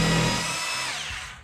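A Milwaukee M18 Fuel 1-inch SDS+ rotary hammer drill in drill-only mode whirs at high speed, loud and close, then winds down as the motor spins to a stop.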